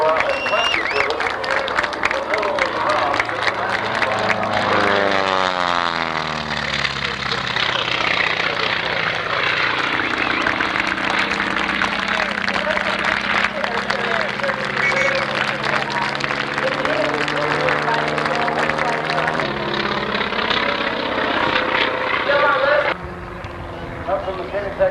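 A propeller aerobatic airplane performing at the 1989 Oshkosh airshow drones steadily and loudly throughout, its pitch sweeping up and down as it rolls and spirals, with a commentator's voice over the engine and a drop near the end.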